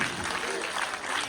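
Steady, continuous applause from an audience during a spiritual speech, many hands clapping at once in a dense, even patter that neither swells nor fades.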